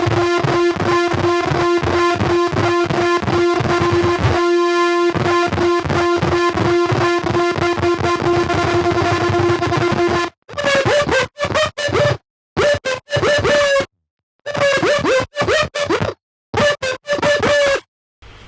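A distorted 2010-era dubstep synth bass pulses with gritty, wobbling low end in rapid rhythmic stutters, first as a continuous throbbing drone, then chopped into short bursts separated by silences.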